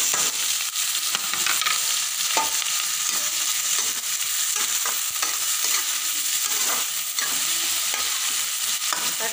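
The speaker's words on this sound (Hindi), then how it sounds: "अब इसमें हम डाल देते हैं तड़का" Constant crackling sizzle of cumin and spices frying in hot oil, with scattered pops and occasional stirring scrapes, close and fairly loud.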